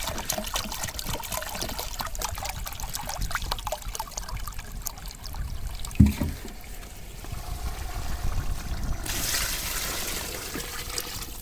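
Water poured into a large cooking pot for village biryani, a continuous trickling, splashing flow that runs steadily throughout, with a sharp knock partway through and a brighter gush toward the end.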